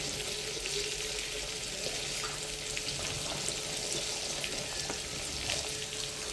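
Tomatoes sautéing in a pan with a pinch of rock salt sprinkled over them, for a chickpea kara kuzhambu, give off a steady, even sizzle throughout with no talking.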